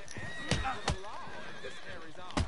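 A horse in the Red Dead Redemption 2 game whinnies with a wavering, fairly quiet cry set against steady game ambience, framed by a few sharp thuds and hoof-like knocks.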